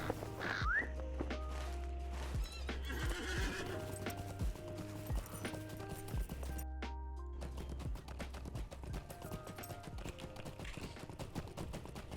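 Horse hooves clip-clop in a steady rhythm in the fantasy online game Lord of the Rings Online, with a loud neigh near the start and game music playing underneath.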